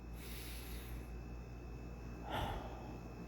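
A person takes breaths during a breathing exercise: a soft, airy inhale at the start, then a sharper, gasp-like intake of breath near the end. Both are close and quiet.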